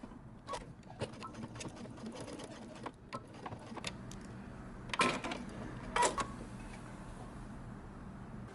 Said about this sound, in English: Backstitch at the end.